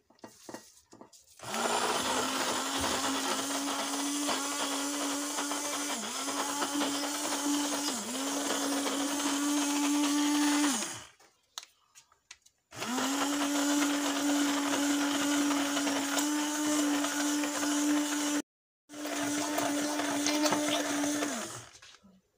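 Electric hand mixer beating chocolate cake batter with cocoa, a loud steady whirring drone that runs for long stretches, dips in pitch as the load changes, and stops twice with brief silent gaps between runs.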